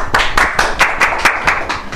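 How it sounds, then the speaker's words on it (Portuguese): Audience at a hypnosis talk bursts into a short round of applause, a steady patter of hand claps repeating evenly and loud for two seconds with no talk over it. "Merece palmas."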